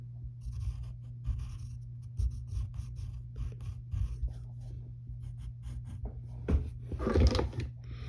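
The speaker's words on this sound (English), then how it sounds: "And then you're going to draw two dimples on the side." A pencil scratches on paper while a cartoon face is drawn, with short strokes for dimples beside a smile; quiet, close scribbling in uneven bursts, ending with a few louder strokes and no speech.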